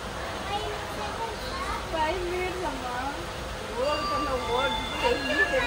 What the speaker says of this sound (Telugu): ఆపోజిట్ ట్రైన్ వస్తుంది